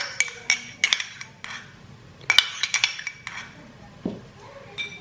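A spoon clinking and scraping against a bowl as sour cream is added for a sour cream and mayo sauce, sharp metallic taps in quick clusters with pauses between, close and fairly quiet.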